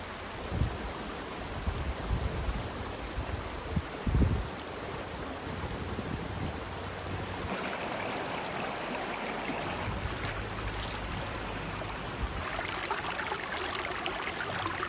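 Dartmoor stream water flowing near the Dartmoor Inn, a continuous close rushing and gurgling wash, steady throughout with a few faint knocks early on.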